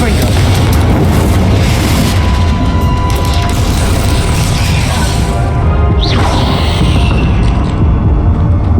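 A Confringo spell explosion in the Hogwarts Legacy video game booms loudly, a dense crashing blast with rumbling debris that fills the whole stretch, ending in a rising whoosh.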